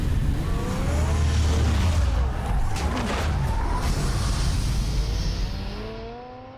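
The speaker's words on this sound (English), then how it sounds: "I'm jumping in this sports car real quick" A sports car in a video game drives hard, its engine droning loud with tires squealing and skidding, then the sound fades as it pulls away toward the end.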